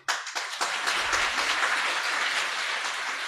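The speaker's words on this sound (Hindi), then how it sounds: "अभी तो ताली बजा दी" Hall audience applauding at a religious discourse by a Jain monk, dense steady clapping that starts in a few scattered claps and swells into a loud, sustained round.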